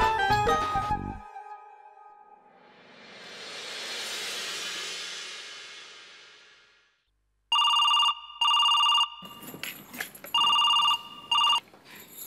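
A telephone rings in loud, repeated bursts during a Hindi TV drama scene, arriving suddenly after a soft whooshing swell. The rings come close and clear, separated by short gaps, with some background clutter under the later rings.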